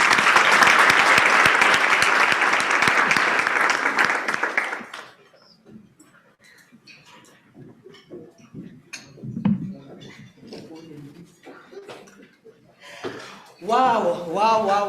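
Strong applause fills a room at a Minerals Council International Women's Day event for about five seconds, then dies away into quiet shuffling, a few scattered sounds and a chuckle before someone starts speaking.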